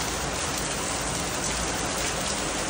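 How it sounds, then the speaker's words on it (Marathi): Steady rain falls outdoors at night, a dense, even hiss of drops that stays close and constant throughout, with no voices. "बघा पाऊस"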